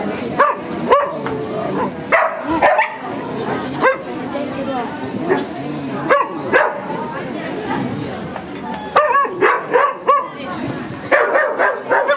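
A guard dog in protection training on a ring barks in repeated sharp, close bursts with some yips and whimpers, while people talk nearby throughout.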